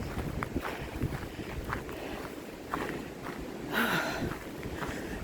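Wind buffeting a microphone outdoors in low, uneven gusts, with a brief louder rush near the end.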